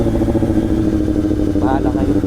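A Kawasaki ZX-25R with its inline-four engine runs nearby in a steady, loud drone, rising briefly near the end, with voices talking over the engine.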